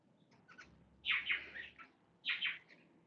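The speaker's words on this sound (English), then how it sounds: "Oh, the birds are coming out now." Garden birds chirp outdoors in two bright, close bursts of rapid tweets, with fainter calls before them and quiet in between.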